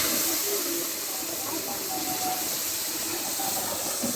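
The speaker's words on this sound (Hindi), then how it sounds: "तो दूर होकर इसमें हम चाशनी ऐड करेंगे।" Hot sugar syrup poured into roasting semolina halwa in a pan, a loud, continuous steamy hiss and sizzle that stays steady for several seconds, close and filling the sound.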